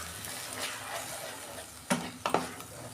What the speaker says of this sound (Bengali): এটা একটু আমি ভালো করে কষাবো।